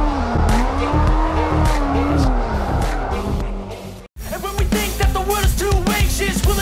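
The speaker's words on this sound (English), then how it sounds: "Drift, avoid other cars, and beat the competition out in your vehicle." Street racing cars drift in an open-world video game, with loud revving engines and long tire squeals close up, a brief cut, then more skidding and engine bursts.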